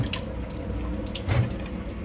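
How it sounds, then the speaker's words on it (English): Water runs slowly from the outlet tap of an ELGA deionized water purifier, a low, steady rushing flow with occasional light splashes and drips, close by and with no voices. "I'm gonna turn on the tap."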